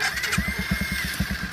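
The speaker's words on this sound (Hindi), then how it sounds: "अभी आपको गाड़ी का नॉर्मल आवाज़ सुनाता हूँ। ये नॉर्मल आवाज़, गाड़ी की सिंपल आवाज़" A motorcycle engine runs normally at idle nearby, without a sound booster speaker fitted, its low exhaust pulsing in an even, rapid rhythm with a faint whine above.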